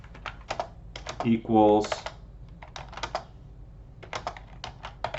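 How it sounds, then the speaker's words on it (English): Rapid keystrokes on a computer keyboard while coding a Shiny app, clicking in quick irregular bursts with short pauses, close and fairly crisp, with a single spoken word briefly breaking in. "the reason I'm typing each value twice in these lines"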